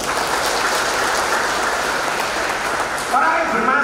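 Audience applause at a motivational talk on personality, dense continuous clapping filling the hall, with a voice starting to come through near the end.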